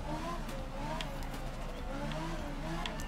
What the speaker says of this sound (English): The skidding around is absolutely ridiculous though.